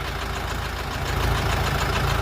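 DongFeng 404 tractor engine idling steadily, a constant low mechanical rumble heard alone without talk.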